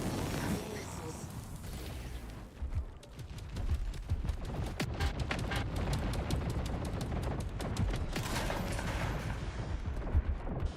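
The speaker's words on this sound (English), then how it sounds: "Incoming missiles." Rapid gunfire and booming impacts from incoming missiles fill a first-person shooter match, dense and continuous with sharp bursts throughout.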